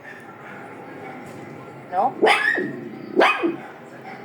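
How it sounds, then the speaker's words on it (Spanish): Dog giving two sharp, close barks a second apart, heard over a quiet indoor room with a person talking. "todo tu ladrido va a salir en el video"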